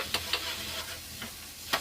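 Onion tadka sizzles softly in a pan for mutton keema samosa, a short, quiet frying hiss broken by a few sharp clinks of stirring.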